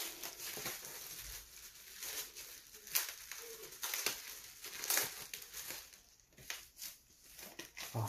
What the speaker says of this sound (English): Sorry, just trying to unwrap this